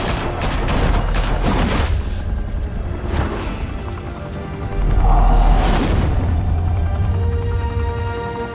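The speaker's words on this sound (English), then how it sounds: "Open fire!" Shootout in a Batman Telltale video game: bursts of gunfire and heavy booms, loud and close, with sharp volleys early and a deep rumbling blast midway.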